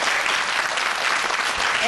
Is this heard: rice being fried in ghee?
no